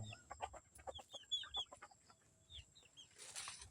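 A mestizo labuyo junglefowl rooster clucks in a quick series of short calls, fairly close and soft, with a brief scratchy flutter or rustle at the end.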